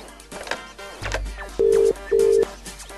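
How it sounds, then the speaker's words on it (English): A UK-style telephone ring tone sounds twice in steady, even double pulses over background noise and muffled line sounds during a prank call about a lawnmower. "Can you just stop ringing this number?"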